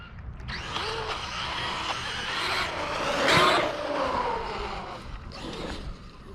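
A 3S LiPo-powered RC truck tearing through grass, its electric motor whining loudly up close as it swells to a peak around the middle and then eases off, with rustling from the grass underneath.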